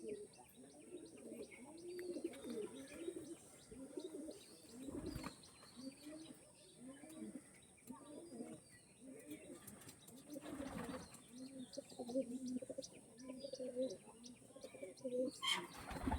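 Pigeons from a Bengali breeders' sale coo in repeated low throaty rolls, steady and fairly close, with faint chirps and a couple of brief wing-flap bursts between calls.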